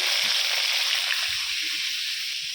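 Green chillies and tomatoes fry in a pan with a loud, steady sizzling hiss that holds close throughout with no voices.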